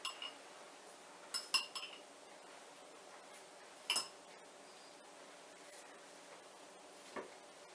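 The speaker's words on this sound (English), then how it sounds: "I'm going to stir those around. And mix it up." Utensils stirring and mixing a sauerkraut salad with caraway seeds, a few scattered clinks and taps of metal against a bowl over a quiet, near-silent room, with no talking.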